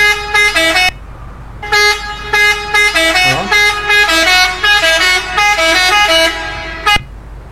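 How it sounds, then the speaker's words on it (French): A truck horn in the Euro Truck Simulator 2 video game sounds in loud, repeated blasts of varying length, close and alone over a steady engine drone, ending with a sharp click. "je fais un petit coup de klaxon pour"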